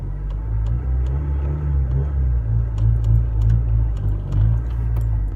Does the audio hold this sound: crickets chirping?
no